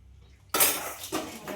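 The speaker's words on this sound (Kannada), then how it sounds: "ಅದಕ್ಕೆ ಪಾತ್ರೆ ತೊಳ್ಕೊಂಡ್ತಾ ಇದ್ದೀನಿ" Dishes and utensils being washed, with a sudden loud clatter of cutlery and pots that continues as scraping and clinking, plus a couple of smaller knocks, close up and with no voices.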